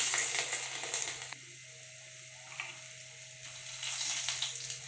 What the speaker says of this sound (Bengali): এবার আমি দেব রসুন,